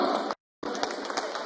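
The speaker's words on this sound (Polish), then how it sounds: "Duże brawa!" An audience greets the band with dense, sustained applause, a broad wash of many hands clapping that cuts out abruptly for a moment, then resumes just as full.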